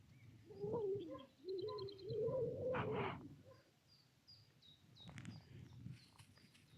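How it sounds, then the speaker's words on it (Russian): Birds call and chirp outdoors beside a lake in a Belarusian village in April, with cooing and short tweets over light footsteps and rustling; the calls are moderately close and fairly clear, with no one talking. "О, заодно и птичек послушаем."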